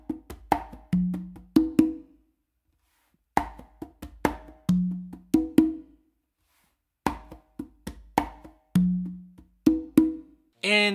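A caballo variation played on congas, with fast clusters of slaps, open tones and muted taps forming a galloping phrase that repeats three times with short pauses, close and clear with no talk.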